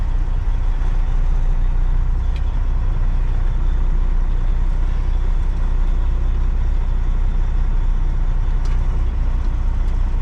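Semi truck with trailer making a U-turn: a steady, loud diesel engine rumble heard from inside the cab, continuous with faint brief clicks, no talk.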